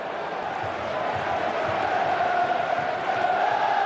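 A sellout football stadium crowd at a Manchester City versus Swansea City EFL Cup match roars in a steady, dense wash of massed voices, loud and continuous throughout.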